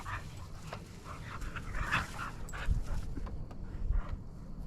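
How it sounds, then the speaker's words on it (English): A dog pants steadily up close, with occasional small whimpers, over a constant noisy background. "Here's the dog being weird."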